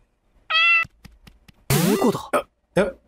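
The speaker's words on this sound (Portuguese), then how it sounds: "É um gato só." A cat gives a short, clear meow up close, followed by a few faint clicks and then louder, rougher vocal bursts that may be a person's voice.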